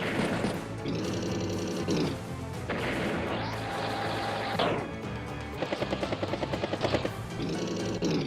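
A T-Copter unit from Advance Wars by Web whirs with a continuous chopping rotor drone, layered over looping synthetic game music and a brief rapid burst of mechanical rattling.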